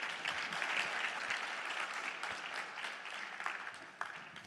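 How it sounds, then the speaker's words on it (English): A conference audience applauds after a talk, continuous clapping from many hands at a fairly faint, distant level with a few sharper individual claps near the end. "Please, another round of applause."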